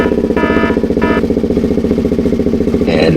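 A motorcycle engine runs steadily and close by, with brief higher mechanical whines over the throbbing idle, on a coastal hilltop town street in Sardinia.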